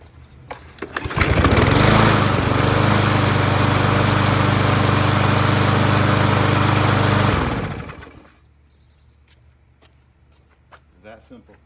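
A 2015 Yard Machine push mower with a 163cc Briggs & Stratton engine and a bent blade starts up and runs at a loud, steady drone close by, then cuts off and winds down to quiet.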